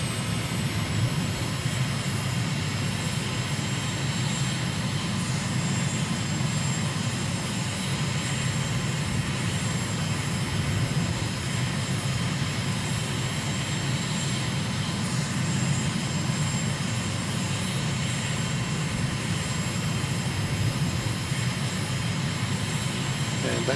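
A fixed-wing airplane engine in Microsoft Flight Simulator, flying over the harbour near Malabo, Equatorial Guinea, drones steadily and loudly throughout with no breaks while someone talks over it.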